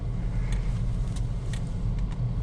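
A 2015 Dodge Journey SXT creeping slowly into a parking spot, its engine a steady low idle rumble close by with faint background hiss and no talking.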